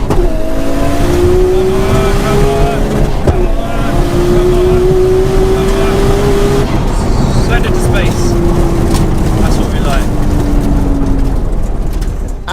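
An 800 hp Nissan Skyline GT-R R34 launches down a quarter-mile drag strip, its engine roaring loud and close through repeated rising gear pulls with brief shift breaks, wind rushing over it.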